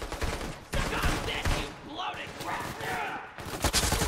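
Gunfire in Borderlands 3: dense, loud bursts of automatic and rapid shots run throughout, mixed with game combat noise and shouted character voices.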